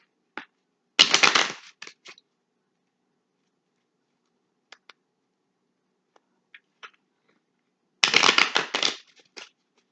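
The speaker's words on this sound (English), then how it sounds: "One more shuffle." Two bursts of tarot cards being shuffled, riffling quickly for about a second each, separated by a stretch of quiet with a few soft taps and card clicks.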